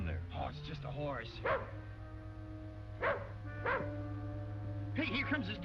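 A dog in an old western TV drama gives a series of sharp, yipping barks in short bursts, fairly close, with pauses between them and a low steady hum underneath.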